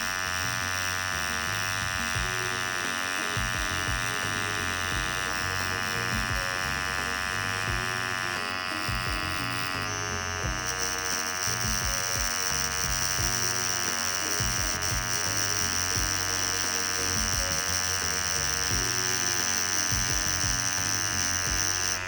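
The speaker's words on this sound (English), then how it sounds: "That's why I'm using the 7 round liner here." Tattoo machine fitted with a 7 round liner needle works on real skin with a continuous close electric buzz, steady in pitch for over twenty seconds and shifting briefly midway, with no speech.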